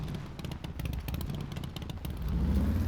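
Motorbike engine in the survival video game SCUM, a steady low rumble holding throughout and swelling slightly louder near the end as the bike moves, with no speech.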